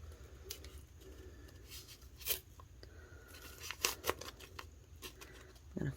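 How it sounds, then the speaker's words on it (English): Painter's tape is pulled and smoothed along an edge during a resin craft project, giving faint sticky tearing and crinkling sounds in short bursts, quiet and close, with no talking. "right at the edge of that, just run some painter's tape"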